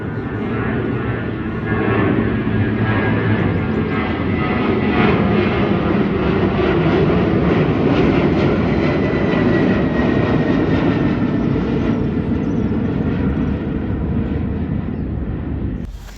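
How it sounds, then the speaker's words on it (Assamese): An airplane flies low near an airport, its loud, continuous engine roar swelling and holding steady before fading slightly at the end, with no talk. "মানে নন ষ্টপ অহা যোৱা কৰি থাকে প্লেনবিলাক।"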